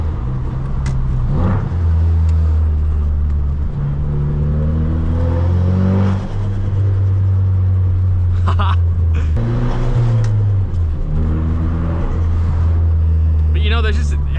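A tuned 450-horsepower Ford Focus RS rumbles steadily at idle and light revs, its deep engine drone holding loud and close throughout while someone talks over it.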